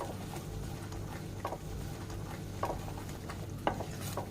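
Murgh mussalam masala with added curd being stirred continuously in a pan, a steady low sizzle with soft scraping strokes of the spoon recurring every second or so.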